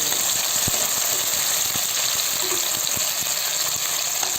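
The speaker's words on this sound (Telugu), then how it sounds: "ఈ ఉర్లగడ్డలు, బీన్స్ నూనెలో కొద్దిసేపులో వేయించుకోవాలి." Diced potatoes and beans fry in hot oil, giving a steady, close sizzle with scattered pops and crackles throughout and no talking.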